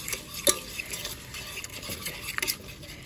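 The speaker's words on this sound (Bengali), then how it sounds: "মিশিয়ে নিচ্ছি ডিমের সাথে" A spoon scrapes and stirs beaten egg with ginger and garlic in a bowl for a spicy winter pitha batter, giving soft, close mixing sounds with a few sharper clicks against the bowl.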